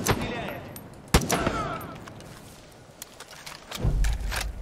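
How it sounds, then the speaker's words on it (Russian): Gunshots ring out in the shooter game Far Cry 5, a few sharp sudden cracks and short bursts scattered among ambient noise, with a voice speaking in between. "Кто-то по нам стреляет!"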